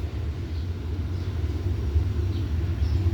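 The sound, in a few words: train passing by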